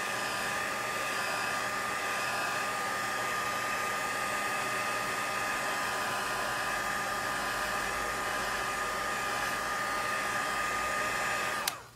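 A hair dryer blows steadily on wet watercolor paper, a loud, even whoosh that runs unbroken for about twelve seconds before cutting off abruptly at the very end.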